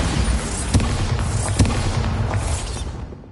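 Bombarda blasting spell in Hogwarts Legacy: two heavy, booming explosions about a second apart, each followed by a rumbling decay that fades out.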